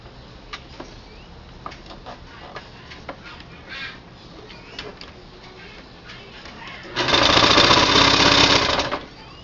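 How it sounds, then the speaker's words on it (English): A sewing machine stitches a seam across a 6-inch fabric waistband, running in one steady loud burst of about two seconds near the end after scattered soft clicks and handling noises. "You turn it back on the opposite side, shorter side, and you're gonna seam this."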